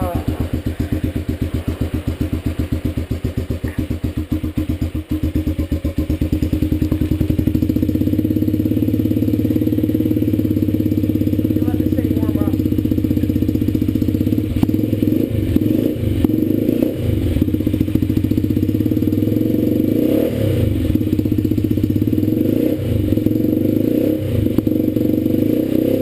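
A 2012 Dirt Runner motorcycle on a cold start with the choke on, its engine idling steadily and loudly close by, the pitch wavering with a few throttle blips toward the end while someone talks nearby.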